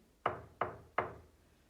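Three firm, evenly spaced knocks land on a door, close and crisp, each one decaying quickly into a quiet room with no voices.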